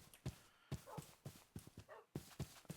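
Dog in the Minecraft video game, a series of short, evenly spaced yips or barks with a soft thumping rhythm, fairly close and moderately loud.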